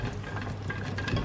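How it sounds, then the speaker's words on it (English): A whisk stirring grated cheddar into a sauce for a moussaka lasagne, soft continuous swishing and light scraping against a pan with a faint low hum underneath. "I'll just whisk it for a little bit more"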